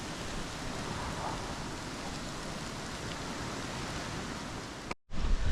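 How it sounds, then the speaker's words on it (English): Rain falling outdoors on a countryside walk along the Peddars Way near Little Cressingham, a dense even hiss of steady downpour that cuts out abruptly near the end. "Just as I started walking again, the rain started."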